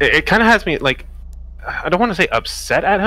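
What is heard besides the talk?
No everyday noises stand out.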